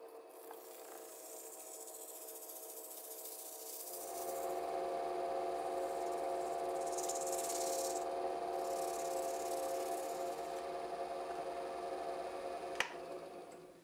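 Turned elk calls are wet sanded with polishing pads, a steady continuous rubbing hiss that grows louder after a few seconds and holds evenly, ending with a brief knock; no talking.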